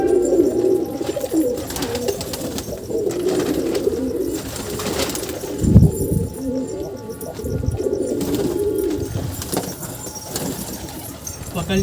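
Pigeons coo repeatedly nearby in low, soft rolling calls, with wing flaps and rustling, while someone talks over them at times.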